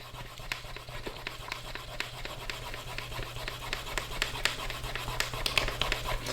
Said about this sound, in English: applying a fair amount of pressure, I just start rubbing the sheath